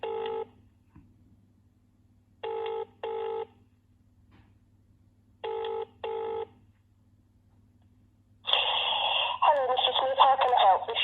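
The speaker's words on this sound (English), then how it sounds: "And there it is ringing." A telephone test call from a DECT fall sensor, starting with short electronic ring or tone bursts in pairs separated by silence. A louder, continuous buzzing tone follows, close and clear, with no talking over it.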